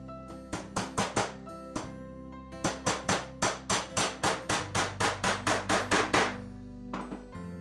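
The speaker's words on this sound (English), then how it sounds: "you blunt the top of the nail, give it a few taps of the hammer" Rapid hammer taps on a nail in a wooden beehive frame, in quick bursts of four to six sharp metallic strikes, close and loud, with brief pauses between groups.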